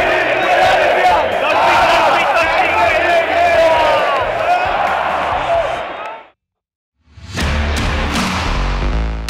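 A football stadium crowd gives a loud, sustained ovation, roaring cheers and chanting that fill the space, then cut to a brief silence before the crowd noise returns.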